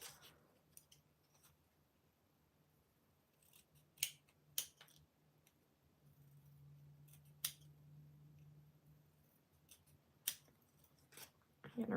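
Scissors snip through paper in a handful of sharp, separate cuts spread over a quiet desk scene, each close and crisp, with a low hum beneath and no speech.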